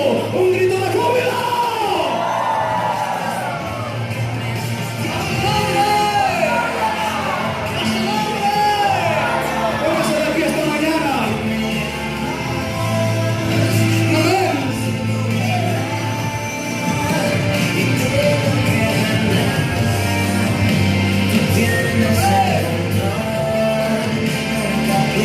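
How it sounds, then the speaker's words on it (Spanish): A church congregation erupts in a sustained, loud joyful roar of shouts, whoops and cheers that fills the whole stretch, many voices overlapping with a steady low hum beneath. "Un grito de júbilo."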